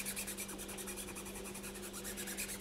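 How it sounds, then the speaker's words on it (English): A layer is burnished onto polymer clay with quick, rhythmic rubbing strokes, a faint close scratching repeated steadily over a low background hum. "And then just gently burnish that on."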